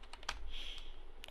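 Computer keyboard typing a short search query: a quick run of close, crisp key clicks over a brief moment.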